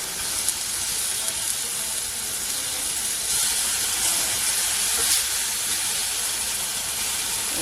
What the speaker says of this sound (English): we're going to actually heat up our tomatoes now too